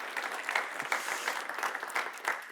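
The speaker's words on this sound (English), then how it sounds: "that's also worth an applause" Audience applause at a panel discussion on EU liberal democracy, a crowd clapping with a lively uneven rhythm and rising and falling swells, clear and fairly close, without talk over it.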